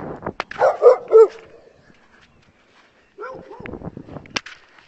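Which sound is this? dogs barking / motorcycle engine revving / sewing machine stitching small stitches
dogs barking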